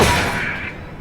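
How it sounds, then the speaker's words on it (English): A single gunshot in Final Fantasy XIV Heavensward lands as one loud, broad blast whose hissing tail fades away over about a second. "They just shot one of their own."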